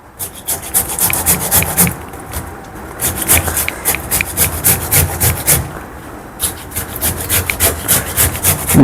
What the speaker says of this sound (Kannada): ರುಬ್ಬಕ್ಕಿಂತ ಈ ಥರ ಮಾಡಿದ್ರೆ ಚೆನ್ನಾಗಿರ್ತದೆ ನೋಡಿ ಈ ಥರ ತುರಿದ್ಕೊಳ್ತೀನಿ